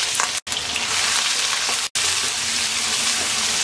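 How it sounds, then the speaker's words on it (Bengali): Whole cumin seeds and three chopped medium onions hit hot oil, producing a loud, dense sizzle and crackle that runs steadily, with two brief cuts in the sound. "তেলটা গরম হয়ে গেছে, দিয়ে দিচ্ছি 1/2 চা চামচ আস্ত জিরা, দিয়ে দিচ্ছি মিডিয়াম সাইজের 3টা পেঁয়াজ কুচি"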